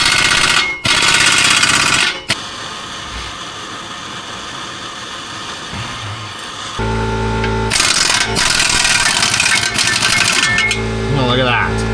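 A pneumatic impact wrench fitted with an 18 impact socket works at a stuck bolt in a repair shop, short loud hammering bursts separated by pauses and a hiss of air, with a voice speaking between them.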